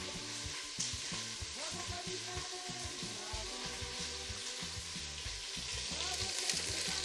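Marinated chicken fries in hot oil with lemongrass and red onion, giving a loud, continuous crackling sizzle that stays up close and steady, swelling slightly toward the end, with no voices.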